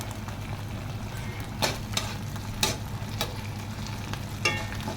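Idli pieces being stirred in a pan with red chilli, soy and schezwan sauces, a low frying sizzle broken by several sharp spatula scrapes and clacks against the pan, close and without talking.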